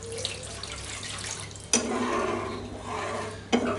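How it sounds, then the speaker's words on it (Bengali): A spoon scrapes through a curry in a pan after cream goes in, with two sharp clinks against the pan over a low background hum and faint bubbling. "ক্রিম দেওয়ার পর এটি ভালো করে নাড়বো।"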